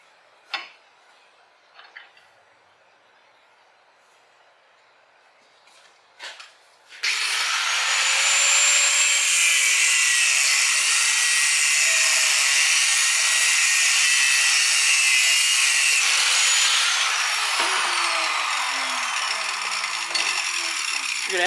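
Metal is cut off a custom Honda Shadow shifter peg, first with a few light knocks, then a loud, steady, harsh cutting whine that runs for about fourteen seconds before tapering off, with no talking.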